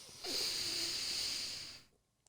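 A slow, breathy exhale during a guided breathing exercise swells and then fades, soft and close, with no speech over it.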